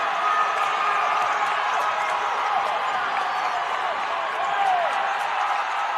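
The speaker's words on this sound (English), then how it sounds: "The crowd is on their feet." Basketball crowd on its feet in a college gym at a conference semifinal, a steady loud roar of cheering and voices filling the space throughout, with faint squeaks and bounces underneath.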